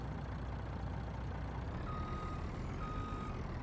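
A Kenworth truck backs up in Farming Simulator 19, its steady engine rumble joined by intermittent high reversing beeps, loud and close with no talking.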